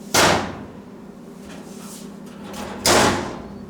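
Doors on a metal workbench with magnetic catches shut tight, two sharp slams a few seconds apart in a quiet room.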